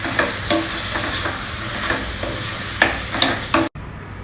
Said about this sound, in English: Now fry all of them together for a couple of minutes.